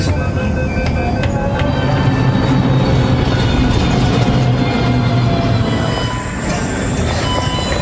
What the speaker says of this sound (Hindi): वो भी मेट्रो से सफर कर रहे थे।